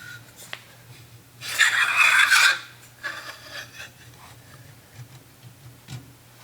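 A metal magazine tube slid into an oiled barrel hanger, a loud grating scrape lasting about a second, followed by fainter rubbing and a few small clicks.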